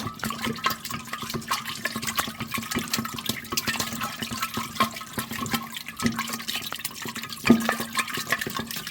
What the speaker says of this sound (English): Give it one more big stir here.